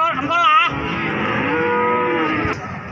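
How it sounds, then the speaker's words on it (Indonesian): A cow moos long and loud at a cattle market in Jaken, Pati, one drawn-out low call lasting about two seconds, close by, with faint background noise. "Sapi ini kita bawa sapi Sariman."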